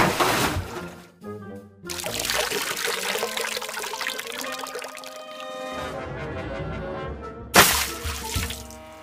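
Water splashes and pours over a crowd of worshippers at a baptism, a steady trickling spray with louder bursts at the start and near the end.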